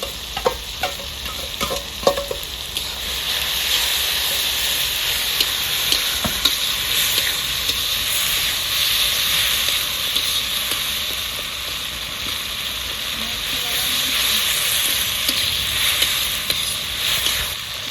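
Ginger frying in a hot pan of oil for a vegetarian potato and pea curry, a loud, steady close sizzle with a few stirring scrapes early on.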